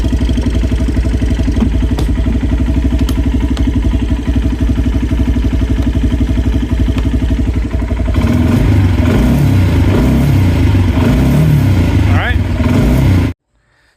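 A Kawasaki Brute Force 300 ATV with a fault that stops it from revving runs loud and close at a steady idle, then bogs and surges unevenly as the throttle is worked, before cutting off abruptly at the end.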